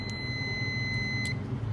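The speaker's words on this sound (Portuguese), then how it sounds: "Uma escala de continuidade no aparelho, eu quero escutar o bip" A multimeter on its continuity setting emits a steady, high beep during a short-circuit search on a MacBook Pro Touch Bar logic board, sounding continuously over a low electrical hum.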